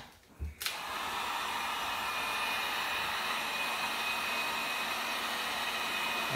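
Heat gun blowing hot air onto the bearing housing of a Novarossi Bonito engine: a brief click and rising whir as it switches on, then a steady, close hissing roar of airflow that runs unbroken to the end.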